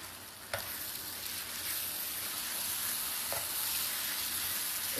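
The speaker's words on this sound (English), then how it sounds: "I'm going to stir this in." Honey and brown sugar being stirred into a sauce in a pan, with a gentle continuous sizzle and a couple of faint utensil taps, quiet and close, with no voices.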